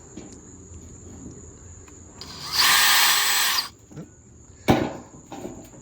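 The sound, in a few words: drilling a pilot hole in aluminum with small drill bit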